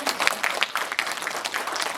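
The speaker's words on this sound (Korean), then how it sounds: "여러분 큰 박수로 맞이해 주시면 고맙겠습니다." An audience claps to welcome a guest, a former university president, at a workshop, producing a brief, steady patter of applause.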